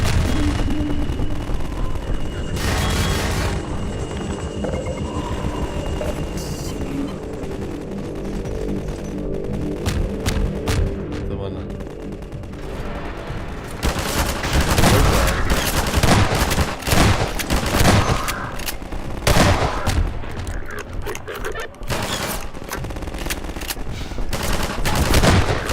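Rockets and heavy gunfire in the Half-Life 2 video game, a dense, loud barrage of blasts and rapid shots with rumbling explosions, continuous and chaotic throughout.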